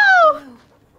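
A single short, high whimpering whine from a dog poisoned by a wyvern in Dragon Age II, starting loud and falling in pitch before fading out within a second.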